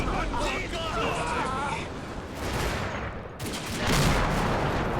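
Mortar bombardment falls on infantry in the Combat Mission game set near Aachen, a dense barrage of crackling gunfire and blasts with a voice talking over it.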